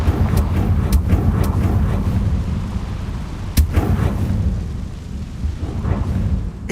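Confringo blasting-spell explosions in Hogwarts Legacy give repeated sharp blasts, one standing out loudly midway, over a constant heavy rumble like booming artillery.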